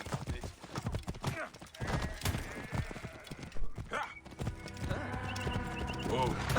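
Hooves of a horse clip-clop at a run in Assassin's Creed Origins, set in ancient Egypt, with an occasional whinny, all mixed under loud game music, battle noise and character voices throughout.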